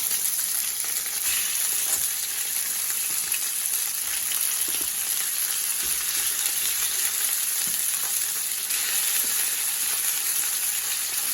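Rabbit meat frying in a pan on a very hot stove with a little hot pepper, a steady loud sizzle running unbroken throughout with no talking.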